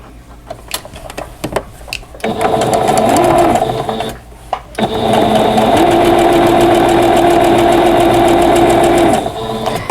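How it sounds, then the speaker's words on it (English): A sewing machine stitches quilt block pieces into rows, sewing in two long steady runs of rapid mechanical chatter, loud and close, separated by short pauses filled with handling clicks and thumps. "I'm just going to sew all the pieces into rows and then sew all the rows together"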